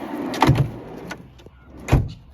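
A drawer in a Toyota HiAce campervan is pushed shut, producing a couple of close wooden knocks and a firm click as it latches, with a second solid thump moments later.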